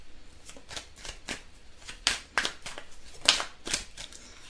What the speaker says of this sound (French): Je vais vous tirer une petite carte pour voir le message pour vous.